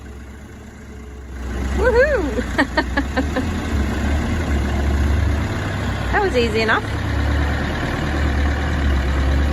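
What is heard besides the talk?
tractor engine pulling a vehicle out of mud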